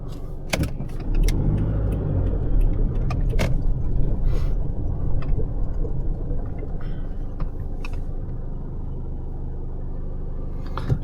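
Stock Isuzu D-Max pickup making a U-turn: a steady low engine rumble and road noise build and hold close by, with a few light rattles and clicks and no talking.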